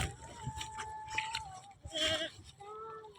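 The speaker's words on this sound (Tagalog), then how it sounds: "Diyan may kambing." Goats bleating outdoors in a rural area, several wavering calls in a row, moderately close and fairly faint, with a little background activity and no clear speech.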